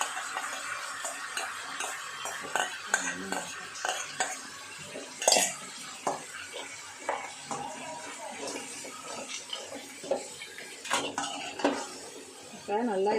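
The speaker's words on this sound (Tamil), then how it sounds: "இப்போ நல்லா இதை வதக்கி விடுங்க." Ground masala paste of coconut and spices sautéing in oil for crab thokku, with repeated scraping and stirring clatter from a spoon on the pan over a soft sizzle, close and continuous.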